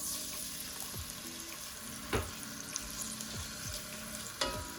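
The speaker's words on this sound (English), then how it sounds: "my garlic first, because I want it to sear a little" Garlic and scallion sear in a hot pan with a steady, close sizzle, while a few sharp scrapes of a utensil stirring cut through at irregular moments.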